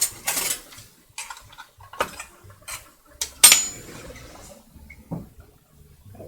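Black beans tip into a chicken burrito skillet and get stirred with metal utensils, giving close, irregular clinks and scrapes against the pan with short quiet gaps between them.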